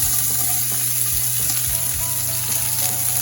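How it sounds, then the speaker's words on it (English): Finely chopped onion from one large onion sautéing in a pan for lasagna, a steady close sizzle with faint stirring scrapes throughout, no talking. "I'm going to saute these up."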